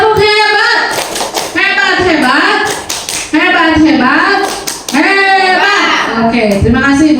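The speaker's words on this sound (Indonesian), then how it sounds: "Tepuk tangan, tepuk hebat." A group in a school teachers' session claps out the rhythmic 'tepuk hebat' pattern, chanting voices riding over steady sharp claps for several seconds, loud and close, with brief pauses between phrases.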